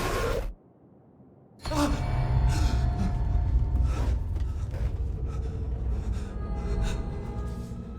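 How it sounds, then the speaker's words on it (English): A character in the video game Alan Wake 2 wakes from a nightmare gasping for air, a sharp breath after a brief silence, followed by heavy breathing over a loud, rumbling ambient game soundscape. "Waking up from the nightmare, I felt like a drowning man gasping for air"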